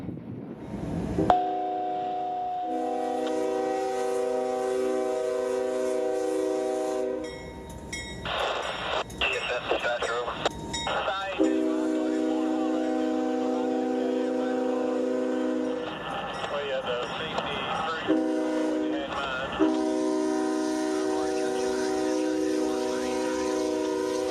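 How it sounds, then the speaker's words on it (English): A massive freight train hauled by three GE locomotives notches up through a railroad diamond crossing in central Georgia. Loud sustained multi-chime horn blasts are repeated several times over the steady rumble of engines and rolling cars, close by. "A trio of GEs would notch up this massive freight as the diamonds would be cleared for 605's crossing."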